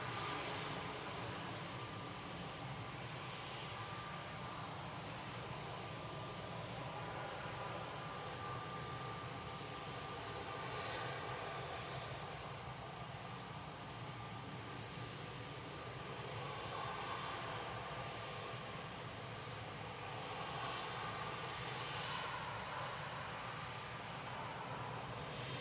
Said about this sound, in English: Easy coming in from Fuerteventura. GZUL Guzzle, A320